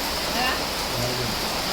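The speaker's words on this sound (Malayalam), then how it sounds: "ഇപ്പം നല്ല മഴ ഞാൻ പറയുന്നതന്നെ കേൾക്കാൻ പറ്റുമെന്ന് അറിയില്ല" Heavy rain falls at a home in Kasaragod, a dense, loud, continuous hiss filling the short stretch with no breaks, and a faint voice barely audible beneath it.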